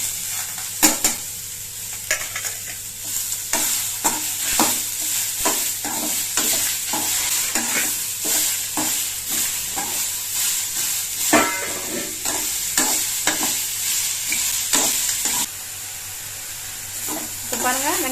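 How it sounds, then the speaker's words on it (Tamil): Onions and tomatoes sauté in a pan for a soya chunk and green pea kurma, with steady sizzling under repeated scraping and stirring strokes of a spoon, close up and continuous. "வெங்காயம் லேசாக அப்படி வதங்கினவங்க அதில் தக்காளியும் சேர்த்துருங்க."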